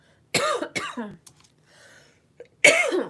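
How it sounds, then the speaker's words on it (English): A few sharp coughs close to the mic, a quick pair followed by a softer rasp, then one more loud cough after a short pause. "didn't expect to cough."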